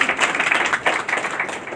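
Audience in a hall at a spiritual talk on stress-free living breaks into dense, steady clapping, a broad crackling wash of many hands that holds without pause for a couple of seconds.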